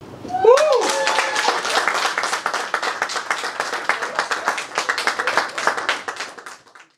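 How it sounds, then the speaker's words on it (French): A crowd at a Cameroonian youth event bursts into applause and cheering, with dense clapping, shouts and children's voices that hold steady for several seconds before tapering off at the end. "Ces acclamations et cris de joie"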